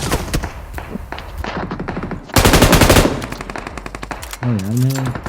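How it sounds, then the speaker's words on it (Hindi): Rapid automatic gunfire from the mobile battle-royale game BGMI, loud and close, with dense bursts of shots, a heavier stretch of continuous fire midway, and a rising-falling electronic tone near the end. "सामने एक और बंदा होता है जो मुझ पर फायर कर रहा होता है।"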